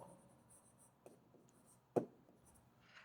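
A teacher writing a chemical formula, brief faint scratches of the pen or marker with one sharper tap, quiet and close over low room noise.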